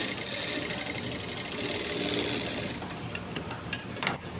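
A sewing machine stitching a blouse runs in a steady rapid whirring chatter for nearly three seconds, then stops and gives way to a few scattered clicks and taps nearby.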